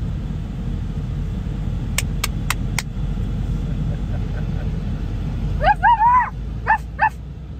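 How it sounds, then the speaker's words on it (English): A dog barks at a coyote outdoors in the Arizona desert: a quick burst of several sharp barks, then a pause over a low road-like rumble, followed by a few whining, yelping barks near the end. "That's enough barking."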